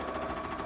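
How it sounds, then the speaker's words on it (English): A sewing machine stitching bottle green fabric gives a steady, close, continuous mechanical whirr with a fast rattling pulse, heard alone in a short burst. "Right, I'm gonna sew that."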